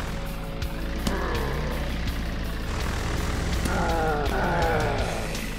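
A vehicle's propeller boost in the video game Earn to Die whirs and drones steadily, with engine tones sweeping upward in pitch in a few surges over a continuous motor rumble.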